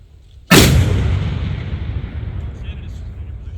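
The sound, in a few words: ceremonial volley of gunfire at a memorial service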